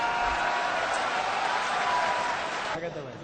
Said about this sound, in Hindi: तो सब ताली बजा के समर्थन कीजिए।